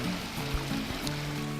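A backyard waterfall pours with a steady, unbroken rush of flowing water, moderately loud and constant throughout, with a faint low hum beneath.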